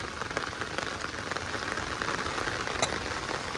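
Steady rain patters densely on a surface, a continuous close hiss with scattered drop taps and no voices.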